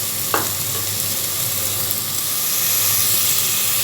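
Ginger garlic paste sizzles steadily in a pan over sautéed onions while mutton kurma is being cooked. A single utensil tap sounds near the start, then the frying swells slightly louder.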